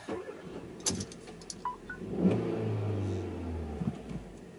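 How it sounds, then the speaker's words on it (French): A Hyundai i20 Coupe's small engine revs up and hums steadily while driving, moderately quiet, with a few clicks and knocks from inside the cabin. "Le moteur fait pas le bruit d'un V8 Ferrari, d'accord, mais on l'entend pas trop."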